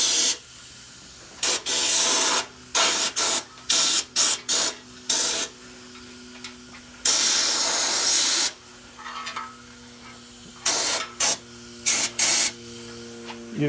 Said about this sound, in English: I'm gonna pull the trigger and pull the gun back slowly, kind of work it back and forth.